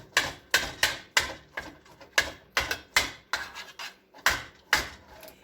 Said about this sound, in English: Just stirring it up good.